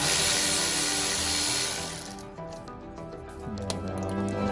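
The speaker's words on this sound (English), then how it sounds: "So we're gonna take the 3 Torx bits off first." A power driver with a Torx bit spins out a screw from a BMW M2 body panel, a loud close buzzing whir that cuts off, followed by quieter clicks and handling sounds.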